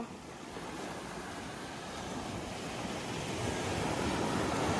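Steady roar of large ocean waves washing onto a black sand beach in Ilocos Sur, loud and continuous with wind buffeting the microphone, no voices.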